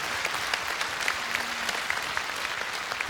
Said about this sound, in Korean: 악단 여러분에게 박수를 부탁드리겠습니다